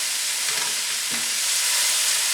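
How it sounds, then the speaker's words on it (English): Sliced piperade vegetables sizzle in hot olive oil as a spatula tosses them, a loud, close, continuous frying hiss with a soft scrape of stirring partway through. "You want to toss this so that everything is mixed and everything is coated with the olive oil."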